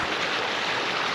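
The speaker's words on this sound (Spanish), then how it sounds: "Una pequeña cascadita nomás ahí." A small waterfall in a Paraguayan stream splashes in a constant, loud, broadband rush of falling and churning water, close by with no talk over it.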